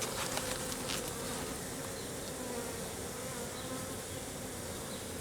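Honeybee swarm being introduced to a hive, a dense continuous buzz of many bees close by, steady and fairly soft throughout.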